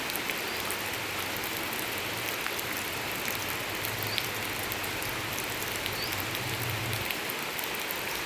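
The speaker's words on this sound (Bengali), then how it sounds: "প্রচণ্ড মেঘ আর বৃষ্টি শুরু হয়ে গেল।" Steady rain pours down over a garden during a heavy cloudburst, a dense, even hiss lasting throughout with no voices.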